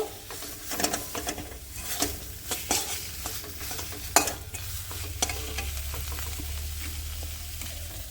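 Chicken and new potatoes with salt are stirred in a wok. A spatula clatters and scrapes repeatedly over a steady sizzle of frying, close and continuous, with no talking.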